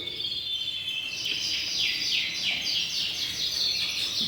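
Yorkshire canaries sing in an aviary, a steady run of bright, rapid trilling phrases and chirps close by, with no voices over them.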